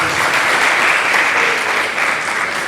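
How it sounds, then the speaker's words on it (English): Audience applause at a tech panel discussion for girls in Accra, Ghana: steady, loud, dense clapping from a crowd that holds at an even level from start to finish. "Please let's give a round of applause."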